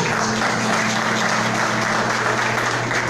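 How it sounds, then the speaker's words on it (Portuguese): Applause from an audience at a Spiritist centre lecture gathering, a steady wash of many hands clapping at close range with a faint low hum running underneath. "Vamos aplaudir também Paulo"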